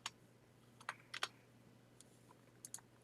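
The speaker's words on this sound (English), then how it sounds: "I'm going to type in the word love." A handful of quiet keystrokes on a computer keyboard, tapped in small irregular clusters over a steady low hum, close by but faint, with no speech.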